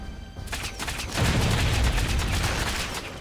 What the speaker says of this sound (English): Shoot them with her squirrel pistols.